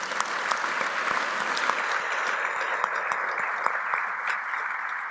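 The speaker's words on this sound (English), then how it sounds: "So let's give her a loud applause." Audience applause at a speaker event in Dallas, steady dense clapping from a crowd filling the room, loud and continuous for several seconds without talking.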